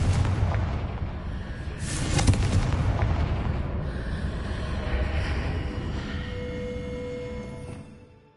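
A Confringo blasting spell goes off in a video game, a heavy rumbling explosion that swells and rolls on for several seconds before fading out.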